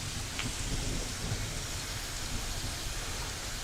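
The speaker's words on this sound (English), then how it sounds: "Look at this rain." Steady rain falls continuously, a dense broadband hiss with faint scattered drips, evenly loud throughout with no voices.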